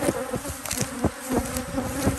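Agitated honeybees at an apiary beside a dead-out hive buzz densely and continuously, close to the ear, with sharper passes of single bees flying near, and no talk.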